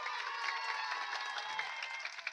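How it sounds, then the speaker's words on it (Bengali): Listeners at a kirtan performance break into applause, a dense, steady clatter of many hands with faint crowd murmur, sustained and fairly close. "তাহলে হাততালি কই"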